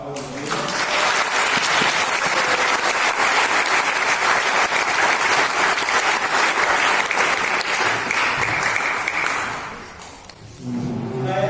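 A church congregation bursts into loud, sustained applause and cheering for about nine seconds, then it fades out and a voice resumes.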